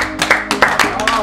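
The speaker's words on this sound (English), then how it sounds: "Clap for my boy again." A few people clap in short bursts at a church drama gathering, several uneven rounds of claps close by with voices mixed in.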